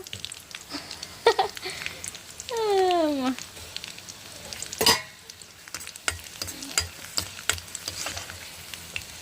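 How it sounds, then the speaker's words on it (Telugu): Garlic frying in a pan, heard as soft sizzling with scattered clicks and scrapes, interrupted by a brief high whining cry and a sharp clatter. "వెల్లుల్లిపాయలు బాగా ఫ్రై చేసేసుకున్నా"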